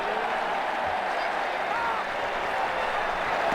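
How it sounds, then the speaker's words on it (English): A stadium crowd applauds steadily at a cricket match in Ashes Cricket 2009, a dense, even wash of clapping and cheering that holds at constant loudness throughout. "The crowd really enjoyed that."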